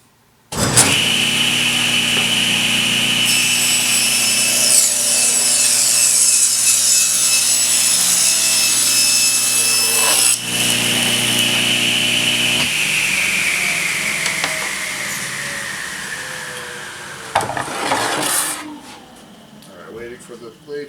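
A table saw rips the edge off a veneered panel in a loud, steady, close cut, the blade whine holding under the workpiece and then winding down as the blade spins to a stop, with brief talk nearby.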